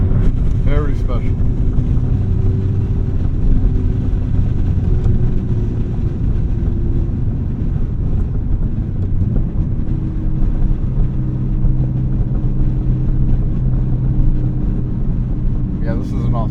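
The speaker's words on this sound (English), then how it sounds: "My first time driving an STi." The engine of a 2003 Subaru WRX STi with an EJ207 hums steadily from inside the car while driving, a continuous low drone with faint road and wind noise.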